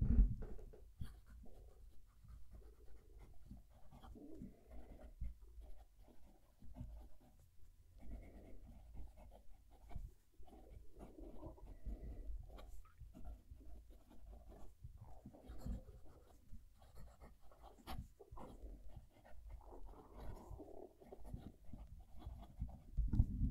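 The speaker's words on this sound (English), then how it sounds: "move the mic down to the paper so you can hear the pen write" A German broad nib pen writes on paper with the microphone held close, giving a faint, continuous scratchy rasp broken into strokes and short pauses across the whole stretch, quiet with no talk.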